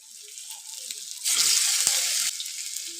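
Potato pakora batter drops into hot oil and frying, a soft sizzle that swells into a brighter, louder crackle midway, then eases back to a gentle hiss.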